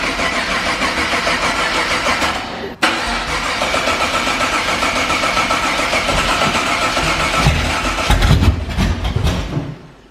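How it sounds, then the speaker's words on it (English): A Camaro engine cranks over rapidly in a fast, even starter chatter, broken by a brief cut before resuming; near the end it catches with a few heavier low thumps. "You hear how fast that thing's cranking over now?"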